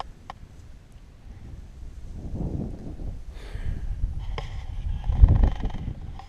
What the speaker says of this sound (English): as mad windy up here anyway